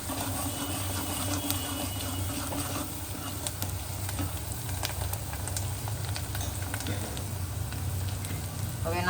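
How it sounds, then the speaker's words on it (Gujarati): Onions hiss and sizzle continuously in hot tempering oil in a pan for a Gujarati peanut-fritter curry, a steady close frying noise with faint ticks and no talking. "મસ્ત જો કાંદા આપણે નાખી દીધા છે."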